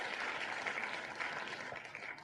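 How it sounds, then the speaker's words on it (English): A prize drawing tool plays a canned applause and cheering effect, a dense, steady wash of clapping that runs on its own at an even level for about two seconds. "I love how it does the little the little confetti thing, and also the cheering"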